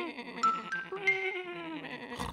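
A sheep bleats close by in a continuous, wavering cry that lasts about two seconds and stands alone without other sounds.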